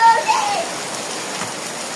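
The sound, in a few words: rain falling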